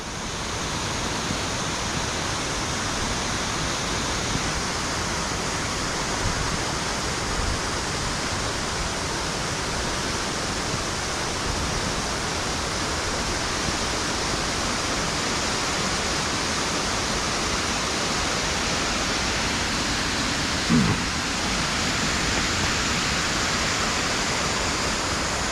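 A waterfall at Gayle roars as a steady, broad rushing wash of falling water, constant and close throughout with no voices.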